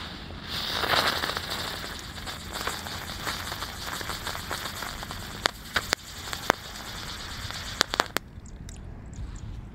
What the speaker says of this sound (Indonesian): Lanjut yang akan kita nyalakan pagi ini ada gangsing jumbo pretek.